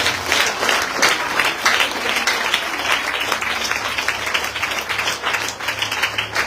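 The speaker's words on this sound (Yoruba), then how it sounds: "Pàtẹ́wọ́ fún Jésù." Church congregation applauding for Jesus at a Yoruba sermon, steady dense clapping from many hands sustained throughout at close range, with no speech.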